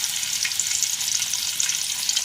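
Bitter gourd pieces frying in a pan of hot oil, giving a steady, close hiss and crackle of sizzling with no talk over it.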